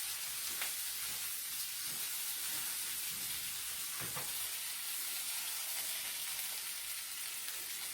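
Liver fries in a pan, a steady, soft, hissing sizzle that holds evenly throughout, with a couple of faint clicks and pops.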